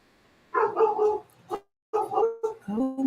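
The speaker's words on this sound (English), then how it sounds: "Oh my goodness, my dogs are crazy." Dogs bark in short, loud, close bursts, two quick volleys with a brief gap between them, yips mixed in, and no clear speech alongside.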